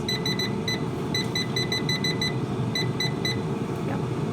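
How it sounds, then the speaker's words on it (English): Air fryer set to 180 degrees for 30 minutes beeping as it starts: clusters of short, clear, high electronic beeps over a constant low fan hum. "Just putting it into the air fryer at 180 degrees, starting it 30 minutes."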